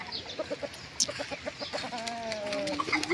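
Chickens clucking in a small backyard poultry pen, several birds calling in short, irregular bursts at close to middle distance, with one longer drawn-out call near the end.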